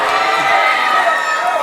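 A wrestling crowd at an MXW independent show cheers and shouts steadily, a dense wall of voices sustained loud throughout with no single voice standing out.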